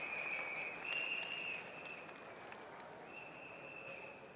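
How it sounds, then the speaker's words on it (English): Applause and crowd noise at an outdoor SDP election rally at UOB Plaza, Singapore, a steady, fairly distant wash of clapping and cheering with a sustained high tone running through it. "Let's give him a big round of applause, everybody."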